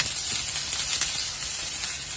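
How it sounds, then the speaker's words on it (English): Fish kebabs sizzle steadily on a hot grill, a dense, even crackling hiss that runs close and loud throughout with no voices over it. "Oh, you hear that sizzle? That tells you it's hot."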